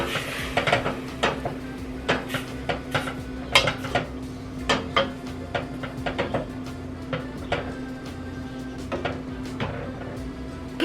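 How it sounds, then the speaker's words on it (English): Metal utensils clink and scrape in a saucepan where butter and garlic simmer over medium-low heat, a sharp irregular series of taps over a faint steady hum, close by and without talk. "now that we have our butter and garlic simmering on a medium to low heat in our saucepan"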